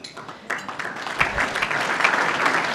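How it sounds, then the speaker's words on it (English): Audience applause for an award nominee, a senior football club coach, at a medal night, steady clapping that builds and holds throughout at moderate loudness. "You can clap for him as well."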